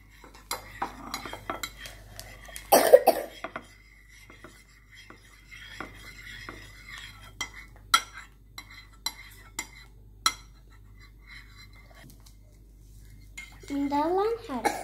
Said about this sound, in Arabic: هاتي خلطها من المعلقة.